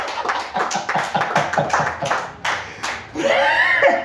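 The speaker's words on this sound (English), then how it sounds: "Give him a hand clap" Church congregation during a sermon claps hands in a quick, fairly even rhythm of about a dozen sharp claps, then a brief burst of cheering and vocal noise at the end.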